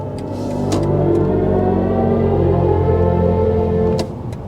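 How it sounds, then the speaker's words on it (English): BMW i5 M60 electric car at full throttle on the Autobahn, a loud, steady synthetic drive hum with layered tones that swells and holds for about three seconds before dropping off, heard from inside the cabin with no talking. "Listen to the expressive sound when I give it full throttle."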